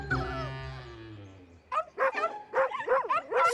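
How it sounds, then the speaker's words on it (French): Small cartoon dogs yapping in a rapid cluster of short, high barks from a French children's animation, heard just after a long drawn-out voiced tone. "Vous entendez? Ce sont les autres petits chiens."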